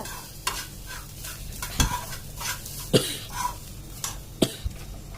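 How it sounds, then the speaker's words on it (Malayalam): A spoon stirs coriander powder and jaggery in a pan with irregular scraping knocks and sharp clacks against the metal, over a faint background sizzle. "നന്നായിട്ട് എന്നിട്ട് ഇളക്കുക"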